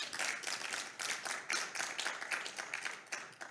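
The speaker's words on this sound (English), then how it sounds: "Round of applause for those funders" Faint, distant applause from a crowd thanking funders during a live-streamed show, a soft wash of many hands clapping that rises and dips slightly and continues throughout.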